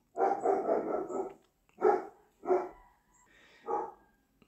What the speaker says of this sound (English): My dogs are outside and they are noisy as hell